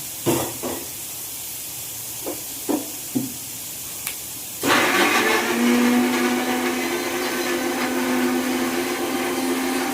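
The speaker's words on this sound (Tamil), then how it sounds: "இப்போ நம்ம தக்காளி பேஸ்ட்டை அரைச்சிக்கலாம்." A mixer grinder grinding tomato paste for a mushroom pepper gravy: a few light knocks, then the motor surges into a loud, continuous whirring roar that runs to the end.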